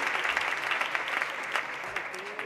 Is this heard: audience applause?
yes